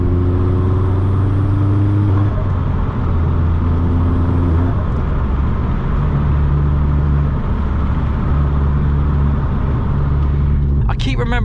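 A Vauxhall Astra VXR on a night drive, its engine a loud continuous drone from inside the cabin with gear-change steps in pitch, road roar throughout and a brief sharp noise near the end.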